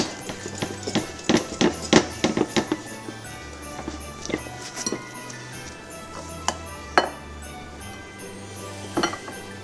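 Nutella roll batter being mixed in a bowl as egg white goes in a spoonful at a time, with a run of clinking, tapping utensil strikes against the dish, loudest early on, then sparser clinks over a steady low kitchen hum.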